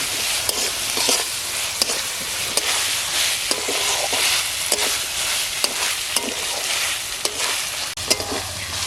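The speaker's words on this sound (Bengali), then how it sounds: "ডাটাটা একটু ভাজা হয়েছে" Vegetable stalks with turmeric and whole green chillies fry in a pan, a steady bright sizzle broken by regular scraping clicks of a stirring spoon, close and loud throughout with no talking.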